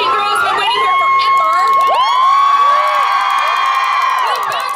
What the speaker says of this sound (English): So you guys, give a big round of applause.